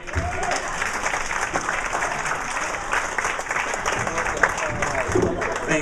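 A comedy club audience applauds and cheers steadily as a comedian takes the stage, a dense, loud wash of clapping with crowd voices mixed in throughout.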